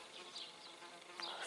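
Flies and solitary bees feeding on honey outdoors give a faint, close buzzing hum with a few brief louder wingbeat swells over a quiet background.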